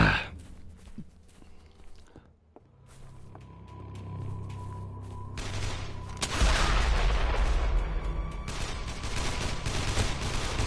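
A grenade blast in the zombie game Dead Island, a sudden loud burst that breaks into a rumbling spread of noise after earlier distant gunshots, then a dense lingering roar of chaos.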